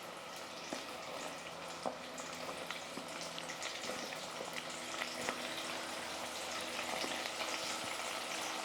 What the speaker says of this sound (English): we're just going to let it fry